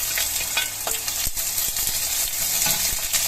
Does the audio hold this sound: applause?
no